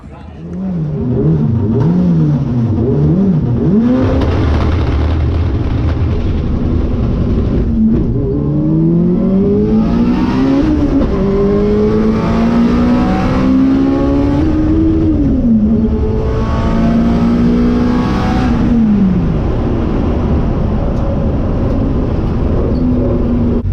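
A loud drag race car engine roars and revs continuously, pitch climbing and dropping through repeated acceleration runs, with brief breaks between gears; the wheels hop badly.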